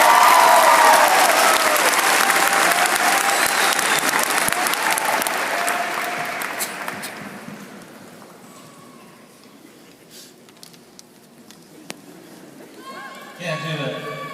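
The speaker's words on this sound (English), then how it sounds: "a round of applause" A large crowd at a high school graduation ceremony applauds loudly, the clapping sustained for several seconds before tapering off into scattered claps and quiet murmur.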